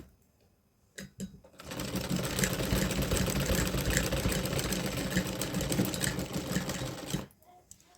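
A sewing machine runs in one steady burst of about six seconds, stitching fabric for a small doll dress, its rapid needle rattle close and loud, with a few clicks before and after.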